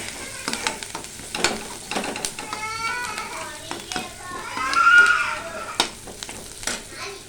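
Soy chunks frying in a pan with turmeric, a soft continuous sizzle with stirring scrapes up close, while voices, including children's, chatter in the background.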